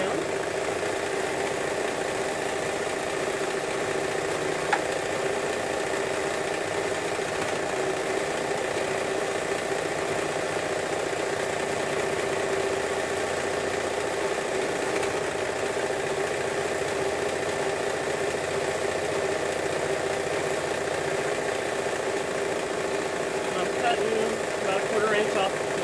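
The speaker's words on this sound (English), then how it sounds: "I'm going to serge around the back and neck just like I do with the regular buttercream halter." A serger stitches around the back and neckline of a buttercream romper, producing a steady, continuous mechanical motor hum with an even whir that runs without a break for the whole stretch.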